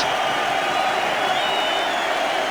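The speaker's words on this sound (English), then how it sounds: "a crowd who cheered them to the echo" Rugby crowd at an England v Wales Five Nations match, a dense, steady roar of cheering and applause filling the stadium, heard at a distance and continuing without a break.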